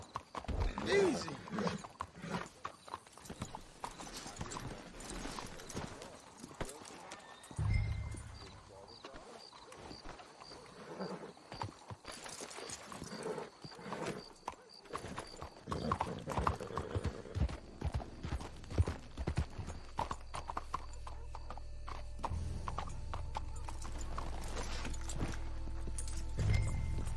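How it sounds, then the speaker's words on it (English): Horses' hooves clip-clop at a walk in Red Dead Redemption 2, a steady rhythm beneath intermittent talk, whinnies and ambient game sounds, with a low rumbling drone building toward the end. "Let's hitch the horses up ahead."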